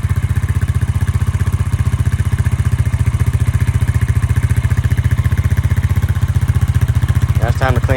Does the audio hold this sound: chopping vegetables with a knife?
no